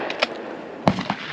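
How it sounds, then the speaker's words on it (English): A single sharp shotgun blast, a fairly distant-sounding crack with a brief tail, amid a low background hiss and a couple of small knocks. "let's try our last shot"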